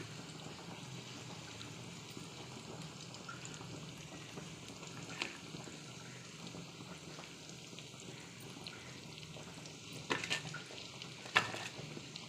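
Spiced dry fish being laid out piece by piece on a hot tawa gives a soft, steady sizzle, with a few louder scrapes and clinks near the end.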